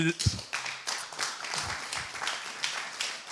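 An audience at a business club gathering breaks into applause, a brief, fairly faint spread of scattered clapping under a speaker's voice.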